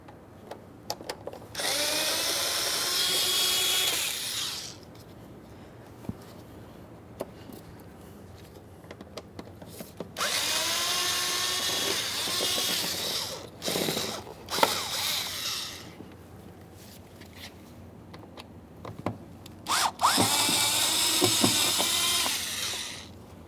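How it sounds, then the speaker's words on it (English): A power drill backs out Phillips head mounting screws from the lower door panel of a 1994-2001 Dodge Ram 1500, with three loud sustained whirring bursts separated by quieter pauses holding small clicks and handling noises. "we're going to remove 4 Phillips head mounting screws"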